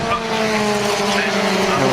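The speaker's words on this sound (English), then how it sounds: "And the car make their way up the hill up towards Druids." Historic Formula Ford race cars at Brands Hatch Grand Prix circuit climb toward Druids with a loud, steady engine whine whose pitch slowly shifts, while a commentator talks over the cars.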